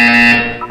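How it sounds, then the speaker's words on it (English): Buzzer from the video game Portal 2 sounding once, a loud, steady electronic tone with bright harmonics that holds briefly and then cuts off, with no talk over it. "When you hear the buzzer, look down at the floor."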